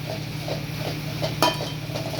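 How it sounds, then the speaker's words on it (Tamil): Drumstick leaf stir-fry is stirred in a pan with soft scraping and clinks of a utensil against the metal, faint and steady, with one sharper knock near the middle. "கிளறிக்கலாம் நல்லா"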